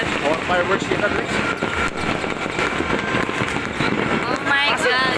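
Continuous crackling and popping of New Year fireworks fills the air while people nearby shout and talk over the noise.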